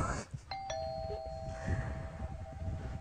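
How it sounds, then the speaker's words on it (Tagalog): A two-tone electronic doorbell chime in the horror game Fears to Fathom: Home Alone rings once and lingers, clean and sustained over a low background rumble. "May doorbell."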